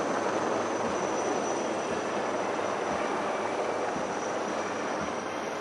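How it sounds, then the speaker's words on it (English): Helicopters flying past over a drill square during a passing out parade at an officers training academy in Chennai, a loud continuous broadband roar of rotors and engines that stays steady throughout, with no talking. "As these helicopters fly past the majestic Parameshwaran drill square, it showers the petal of blessings on the cadets of passing out course."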